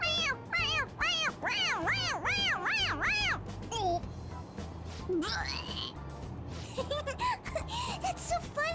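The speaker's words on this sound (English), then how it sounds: "It meows when you press on its head." Toy cat in the video game Persona 5 Royal meowing when its head is pressed, a rapid run of five or six bright rising-falling meows, then scattered squeaks and cries with voices over the game audio.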